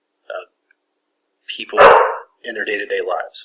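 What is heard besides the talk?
dog barking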